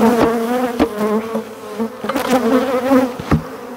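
Honey bees hum and drone in front of a hive, a close, continuous buzz with wingbeats rising and falling as individual insects pass near.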